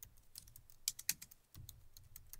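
Typing on a computer keyboard, quiet and close, with a steady patter of keystrokes and a few sharper clacks, heard alone without talk.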